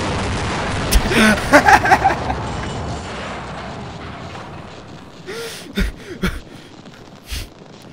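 Explosions in the Half-Life mod Deliverance, a few broadband bursts with low rumble, the loudest cluster early then several sharper blasts later, heard over steady game ambience.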